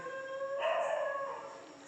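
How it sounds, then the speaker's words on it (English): Dogs bark and howl faintly in the distance, a thin, drawn-out call rising midway and fading away again, with no speech over it. "I don't know what's wrong with the dogs."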